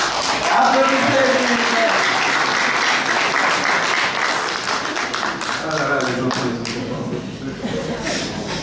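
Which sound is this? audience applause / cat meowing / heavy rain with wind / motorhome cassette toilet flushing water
audience applause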